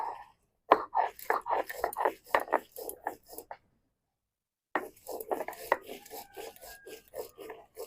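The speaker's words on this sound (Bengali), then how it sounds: "আগে কাঁচামরিচ এবং শুকনা মরিচটা কিন্তু ভালো করে পাড়তে হবে" Green and dried chillies ground on a stone, heard as close, rhythmic rasping strokes in quick bursts, with a pause in the middle before the scraping resumes.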